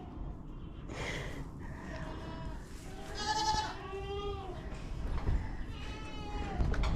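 Goats bleat repeatedly on a farm, several wavering cries close by over a steady low background rumble.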